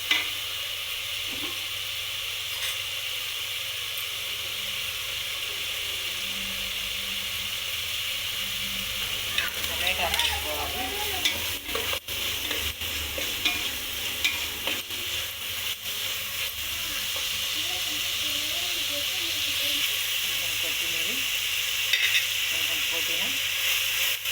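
Moong dal kichidi masala sizzles steadily in hot oil in a pan, a continuous frying hiss with occasional stirring scrapes and clinks, some faint speech partway through.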